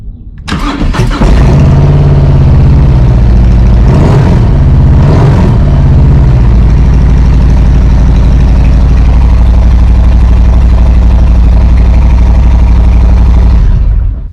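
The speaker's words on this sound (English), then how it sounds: "let me just fire it up and see" A Harley-Davidson motorcycle with an aftermarket exhaust fires up with a brief crank, blips a couple of deep revs, then settles into a loud, steady, close idle.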